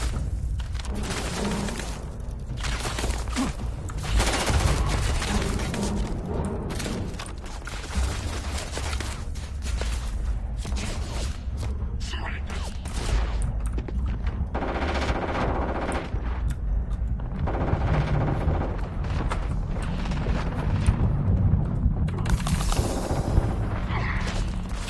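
Gunfire rings out in Starfield on mouse controls: dense, rapid automatic bursts and single shots with occasional booms, loud and nearly continuous, with no voices.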